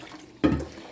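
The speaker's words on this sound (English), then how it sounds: "don't know what else to use to throw water in there" Water poured from a kettle into a bowl of flour and other ingredients for naan dough, weighed on a kitchen scale: one short, soft splash of liquid lasting about half a second, close by, in an otherwise quiet room.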